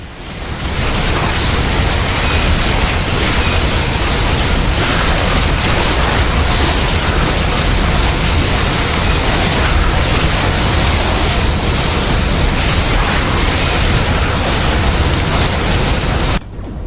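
Buildings being blown apart in The Riftbreaker, a dense, loud, continuous roar of explosions and crashing booms layered over one another for the whole stretch, with no pauses.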